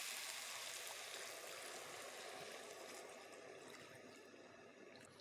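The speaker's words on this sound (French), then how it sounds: "Maintenant, on va mouiller à hauteur avec de l'eau." Water is poured steadily into a lamb tagine made with saffron and cinnamon, giving a continuous close splashing trickle that runs unbroken for about five seconds and slowly eases off toward the end.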